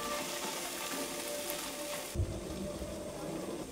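Long-cut potatoes and onions fry in a pan, giving a close, steady sizzle and crackle, with a brief knock or stir partway through.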